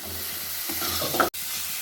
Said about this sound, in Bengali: এবার মশলাগুলো আমি কষিয়ে নিচ্ছি।